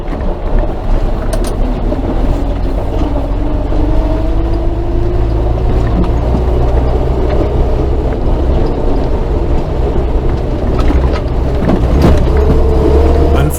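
A Series 3 Land Rover driving at night through snow on an uncleared road into an old gravel pit, a steady loud engine drone and rumble with wind buffeting, continuous and close, no voices.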